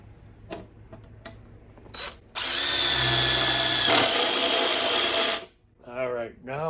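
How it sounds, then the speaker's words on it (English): A power drill whirs loudly for about three seconds as it bores a hole with a sharp bit in a 1972 Volkswagen Super Beetle, after a few clicks and quiet talk, then a voice speaks. "First hole I'm going to drill is with this bit."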